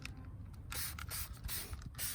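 Several quick, quiet hissing sprays of cherry-scented non-acid wheel cleaner hit the inside barrels of car wheels, with short pauses between bursts.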